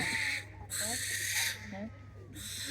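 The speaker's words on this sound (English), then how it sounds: "Barn owl sounds like this." A barn owl gives a harsh, drawn-out screech in broadband bursts, repeated three times with short gaps, over a steady low hum and faint background voices at a live safari park event.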